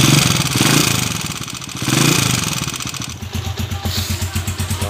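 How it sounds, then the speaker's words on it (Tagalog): Honda TMX155 motorcycle converted to 175cc with a 62mm block and CG200 cylinder head, engine running close by with smooth revving swells, then settling into a steady, pulsing idle toward the end. "Ay, smooth ng motor ni Kuya, oh."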